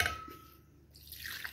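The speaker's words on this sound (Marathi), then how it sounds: "पाणी हवं तेवढं घालून" Water is poured into a bowl of spicy pani puri water blended in a mixer and then mixed, giving a soft splashing pour that swells toward the end, with a brief faint clink.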